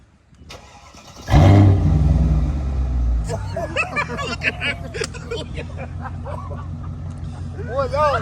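A Mercedes SL500 with a custom exhaust fires up with a loud burst, then settles into a deep, steady idle while people talk over it nearby.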